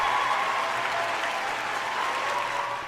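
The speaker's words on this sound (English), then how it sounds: "Round of applause." Steady round of applause from an audience at a talk, dense clapping sustained throughout and tapering slightly at the end, with no voices over it.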